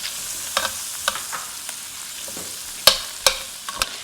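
Butter melts and sizzles in a skillet for a garlic butter Tuscan shrimp dish, a steady soft fizz broken by a few sharp pops and spatters, close and without talking.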